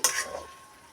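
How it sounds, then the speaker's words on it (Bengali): Ghee hitting a hot pan for mango lachha paratha, a brief bright sizzle that flares and fades within half a second. "এতে দিয়ে দেব 2 চামচ ঘি"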